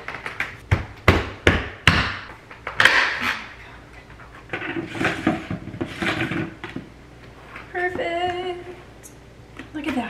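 A lid is hammered onto a 5-gallon food storage bucket in a run of sharp close knocks, then a pause and a second cluster of blows, with a brief squeak near the end.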